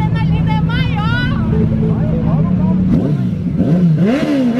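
A Yamaha XT 660 motorcycle engine idles with a steady low drone, then revs up in rising bursts near the end, loud and close, with excited voices talking and shouting over it.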